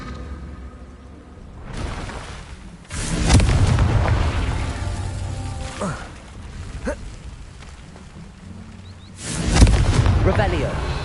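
Repeated explosive booms from the Confringo fire spell in Hogwarts Legacy, several loud bursts spaced a few seconds apart over a rumbling game soundtrack.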